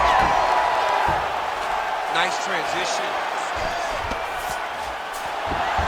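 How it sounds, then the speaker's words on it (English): A virtual arena crowd in EA Sports UFC 5 roars steadily through a Jairzinho Rozenstruik vs. Misha Cirkunov grappling exchange, a loud, continuous wash of cheering that swells slightly at the end, with a commentator briefly speaking over it. "the crowd pops in appreciation as the fighters work their way back to the feet"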